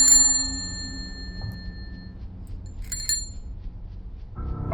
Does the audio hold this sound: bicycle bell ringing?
yes